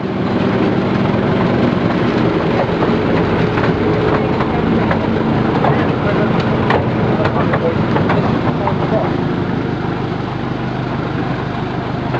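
A Driving Creek Railway train in Coromandel running along its narrow track, a steady rumbling roll with scattered clicks and rattles from the wheels, close and continuous.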